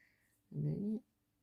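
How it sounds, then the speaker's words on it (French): A cat gives a single short, close vocal call lasting about half a second, loud against a quiet indoor background. "Un minou."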